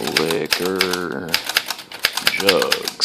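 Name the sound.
typing on 1929 Corona Special Folding 3 typewriter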